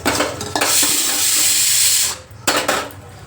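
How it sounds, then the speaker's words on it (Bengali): Drumstick (sajne data) sizzling steadily in hot oil in a pan, a loud close frying hiss that stops abruptly near the end, followed by a brief stir and clatter. "সজনে ডাঁটাটা ভাজা হয়ে গিয়েছে এবার তুলে নেব হালকা করেই ভাজতে হবে"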